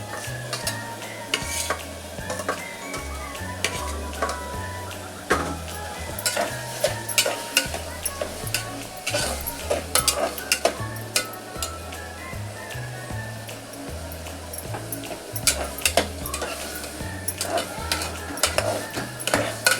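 Carrot and capsicum stir-fried in a pan, with continuous close sizzling under repeated spatula scrapes and taps in an irregular stirring rhythm over about twenty seconds.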